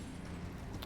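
Horse hooves clip-clopping at a run in the Elden Ring video game, a steady rapid patter of hoofbeats heard up close and continuous throughout.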